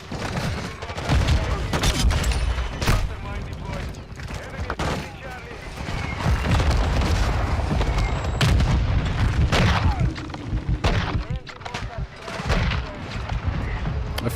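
Dense gunfire bursts and booms from a Call of Duty League match, Call of Duty weapons firing in rapid clusters throughout, loud and busy, with a voice talking over the shooting.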